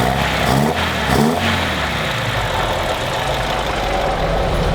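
A 1976 BMW 2002 engine, long abandoned, runs close and loud, with a couple of quick revs near the start before it settles into a rough, steady idle.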